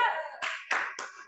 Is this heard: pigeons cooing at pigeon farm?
no